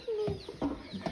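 Chicks in a hatchery shipping box from McMurray Hatchery: several quick, close peeps and chirps, one drawn-out cheep, soft and fairly faint with box rustling.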